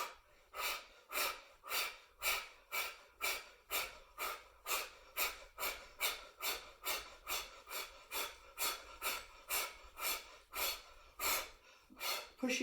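Heavy, rhythmic breathing during a yoga session, with loud, forceful breaths repeating roughly twice per second, each a sharp rasping push of air, close to the microphone and continuing steadily without talk.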